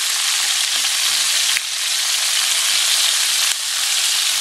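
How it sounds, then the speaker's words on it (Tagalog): Chicken wings for teriyaki frying in oil, a loud, dense, constant sizzle with two brief dips, close by and without voices. "i-fry natin hanggang maging golden brown"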